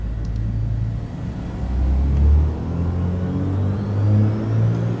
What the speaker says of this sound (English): Hear the turbochargers coming to life here.